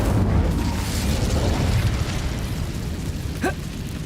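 Incendio fire spell cast in Hogwarts Legacy, a loud continuous roaring whoosh of flame that fills the whole stretch, with a short bright burst near the end.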